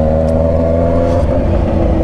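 Kawasaki Z900RS motorcycle with an Atalla 304 stainless steel exhaust, its engine running close by with a loud, steady, deep droning note that rises slightly in pitch with light revving.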